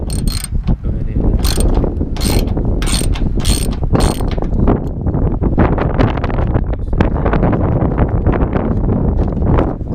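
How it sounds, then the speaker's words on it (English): A ratchet clicks rapidly in several short bursts while loosening a 10mm bolt on a 2005-2009 Mustang GT hood switch, close and crisp, followed by scraping mechanical handling and wind noise. "go ahead and loosen the bolt"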